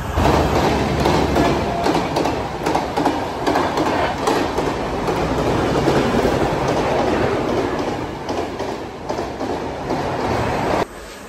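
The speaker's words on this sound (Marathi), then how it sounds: "1 नंबरलाच लागणार आहे ट्रेन असं सांगितलं त्यांनी" A train runs past a railway platform on a Konkan route, loud and close, with rumbling wheels and clickety-clack over most of the clip before the noise drops off at the end.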